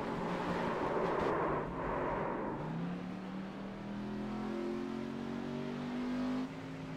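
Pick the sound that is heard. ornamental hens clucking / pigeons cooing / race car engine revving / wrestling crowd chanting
race car engine revving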